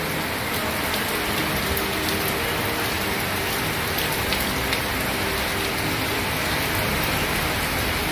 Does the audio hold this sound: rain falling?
yes